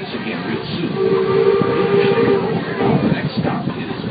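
Walt Disney World Railroad train rolling toward Main Street Station, a steady rumbling ride with a sustained tonal whine or whistle-like note in the middle, heard up close from aboard.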